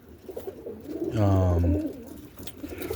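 Roller pigeons in a loft at night give a single deep, drawn-out coo, close and clear over a quiet background.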